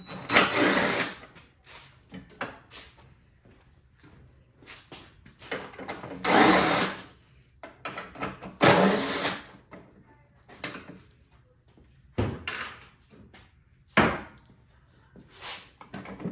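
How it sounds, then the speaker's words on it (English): On a Honda HS 520 snowblower, a power tool backs bolts out of the black plastic bottom cover in short whirring bursts of varying length. Clunks and handling noises fall between the bursts, and no one speaks. "this looks like we got a few bolts that we got to take out that holds this black plastic piece on the bottom"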